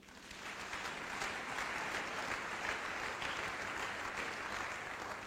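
A church congregation applauds together in a sustained, dense wash of clapping that holds steady and loud from start to finish, with no voices standing out.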